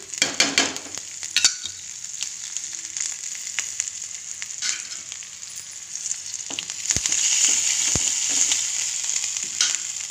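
Curry leaves and asafoetida hit hot oil with urad dal, cumin, turmeric, dried red chillies and crushed garlic, a loud close sizzle with stirring clinks that swells into a sustained fry toward the end.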